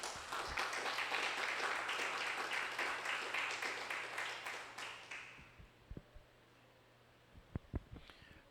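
A church congregation at a prayer service bursts into sustained, dense clapping. It fades after about five seconds, leaving a few scattered taps and knocks in a quiet room.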